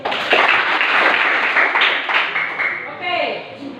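A classroom of students claps together in a dense burst of applause that fades after a few seconds, with voices mixed in.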